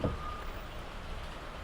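Steady rain falls around a parked 2019 Honda Accord, a continuous soft hiss with no other distinct sounds.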